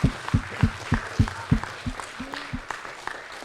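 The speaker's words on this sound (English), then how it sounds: "let's give yourselves a round of applause" A school audience claps in a short burst of loud, close applause that tapers off after a couple of seconds.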